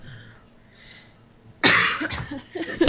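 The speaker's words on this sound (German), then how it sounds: "Jetzt muss ich deswegen husten" A person close to the microphone lets out a sudden, loud cough, then a rough follow-up cough and throat noise. Before it there is only faint low murmuring.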